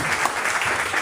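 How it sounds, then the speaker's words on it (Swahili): A church congregation applauds in a steady, dense wash of clapping that fills the room from start to finish, loud and even throughout. "Tumpikie mtumishi wa Mungu makofi."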